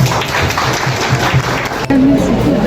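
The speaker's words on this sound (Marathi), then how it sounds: "सर्वांना या ठिकाणी आपण टाळ्या वाजून त्याचं स्वागत करूया" A crowd claps together at an engagement ceremony in a dense, steady burst of applause, close and loud, with voices mixed in near the end.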